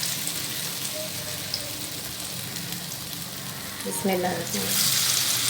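Batter-dipped potato and eggplant slices fry in hot oil, a steady close sizzle that grows louder and brighter toward the end, with a brief spoken word at the start.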